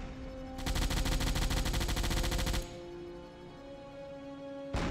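A submarine's deck gun fires in Silent Hunter 4, a rapid rhythmic burst of loud repeated shots lasting about two seconds over a steady engine drone, followed by a quieter stretch and one more burst at the end.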